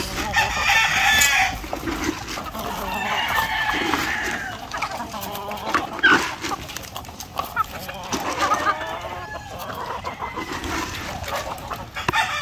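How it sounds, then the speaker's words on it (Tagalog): Farm chickens, including egg-laying RTL hens, clucking with occasional crowing from a rooster, moderately close and continuous over outdoor background noise, with people talking faintly at times. "Ito yung mga manok natin mga ka-farmers."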